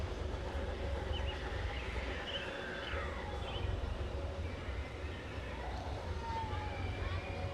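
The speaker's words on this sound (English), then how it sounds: "Train going by on the river along with the canoers." A distant train rumbles steadily past along a river with a low continuous drone and faint rail screeches, muffled voices murmuring under it.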